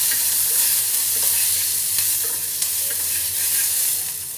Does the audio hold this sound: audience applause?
no